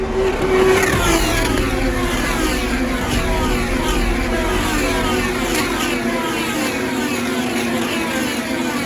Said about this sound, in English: watch these awesome cars zoom by you